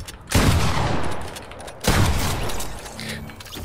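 Gunfire in a video game: two sharp blasts about a second and a half apart, each followed by a long rumbling decay, loud and close with no talk.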